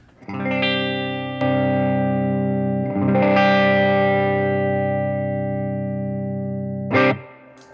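An electric guitar chord rings out, is struck again, and swells brighter and more saturated partway through as a Wampler Tumnus boost pedal is switched on, before fading, ending with a short buzzy burst.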